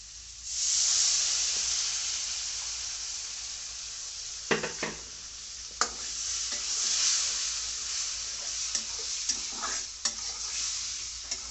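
Onions, spices and tomato sizzle steadily in a hot pan, a soft continuous hiss broken by several sharp scrapes and clicks of stirring, no talking.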